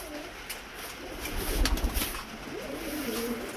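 Racing pigeons coo in a loft, soft, throaty calls close by over a low, steady background murmur of the aviary.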